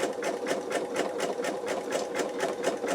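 Embroidery machine stitching an in-the-hoop wallet at its second slowest speed, a steady rapid needle rhythm of evenly spaced stitch pulses over a continuous motor hum, close and moderately loud with no talking.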